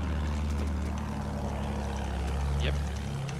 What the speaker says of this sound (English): Another plane is up.